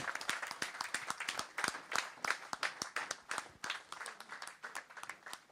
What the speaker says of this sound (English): Ladies and gentlemen, please have a huge round of applause for our continuity drill squad.